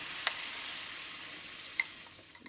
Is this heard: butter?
yes